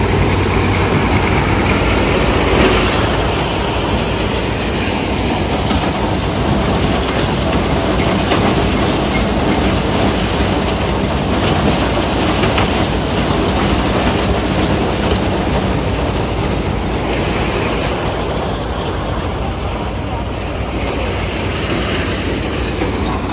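A combine harvester works a maize field in Punjab, giving a steady, droning engine roar with mechanical clatter. The noise holds constant and close throughout, with no talk.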